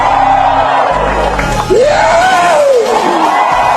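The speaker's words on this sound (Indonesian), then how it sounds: "teriakan perang yang diajarkan oleh guru saya dari Dayak" A Dayak war cry shouted by one person: a loud rising-and-falling whooping yell with a sustained wavering tone, over a crowd-like background roar.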